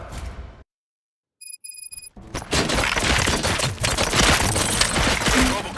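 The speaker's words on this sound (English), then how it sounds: "Gunshots? What's going on?" Burst of gunfire and impacts in the RoboCop: Rogue City video game, loud dense crackling and thuds filling the scene after a brief silence broken by a few electronic tones.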